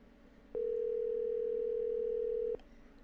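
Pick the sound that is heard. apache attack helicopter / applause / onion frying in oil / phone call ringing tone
phone call ringing tone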